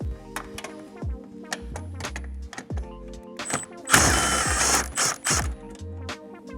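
A ratchet works loose a 10mm upper bumper bracket bolt on a B9 Audi RS5, with close, quick runs of clicking, short gaps between strokes and a brief louder rattling clatter midway.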